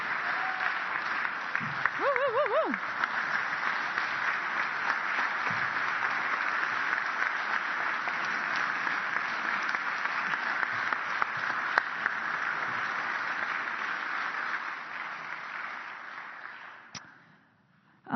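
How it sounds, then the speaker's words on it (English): Sustained applause from an audience at an annual meeting, dense and steady for most of its length with a few whoops near the start, then fading out at the end. "if we could give Rob one more big round of applause"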